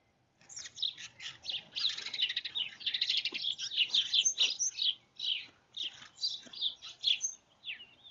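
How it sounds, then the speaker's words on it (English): Small birds chirp and tweet in a busy, overlapping chorus, steady and fairly close, with no talk over it. "Hi, birdies."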